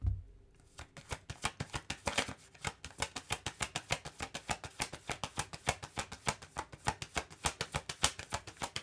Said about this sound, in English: Let me get one more card, please.